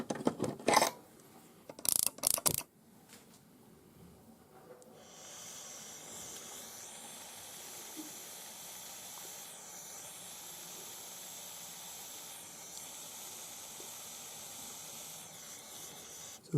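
A torch melting small metal pieces into balls for flower-like earrings: a few loud bursts of clicking at the start, then a steady close hiss of the flame running continuously.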